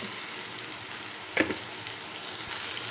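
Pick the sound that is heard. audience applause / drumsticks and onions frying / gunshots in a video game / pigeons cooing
drumsticks and onions frying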